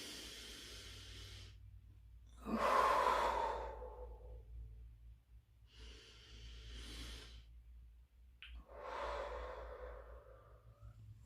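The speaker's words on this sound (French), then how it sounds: "j'expire." Slow, deep breaths during a diaphragm breathing exercise: several long, airy inhales and exhales spaced a few seconds apart, close and soft, with no talking.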